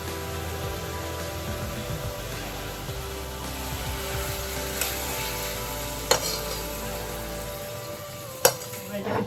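Prawns frying in mustard oil over a gas flame, stirred in the pan: a steady close sizzle with scraping stir sounds and a few sharp clinks of the utensil, no talk.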